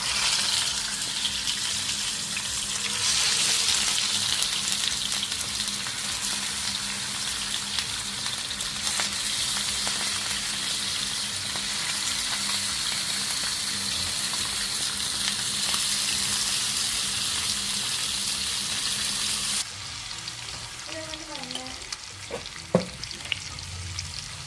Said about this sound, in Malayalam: എണ്ണ ചൂടായിട്ടുണ്ട്. നമുക്ക് മീൻ ഇട്ട് കൊടുക്കാം.